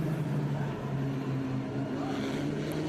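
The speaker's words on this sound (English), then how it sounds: "you can hear from the notes of the cars how they're braking and accelerating in almost identical positions" Formula Regional Americas race cars braking and accelerating around the Mid-Ohio circuit, a steady engine drone with shifting tonal notes heard from a distance, no voices.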